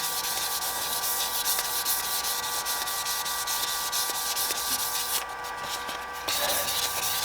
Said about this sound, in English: One of my favorite tools, sandpaper.